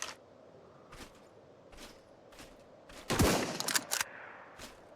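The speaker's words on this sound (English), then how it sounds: "This one fires heavy bullets" Weapon from an ARK video game mod firing heavy bullets, several short sharp shots spaced about a second apart, then a louder burst of rapid fire near the end, with no voices.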